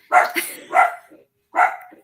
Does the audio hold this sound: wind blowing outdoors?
no